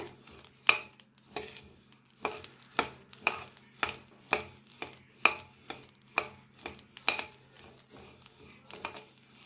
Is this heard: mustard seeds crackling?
yes